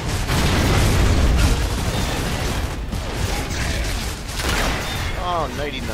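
Frag grenade blasts and heavy gunfire in Gears of War 3 co-op combat, loud booming bursts rolling continuously over a dense battle din for six seconds, with shouting voices mixed in.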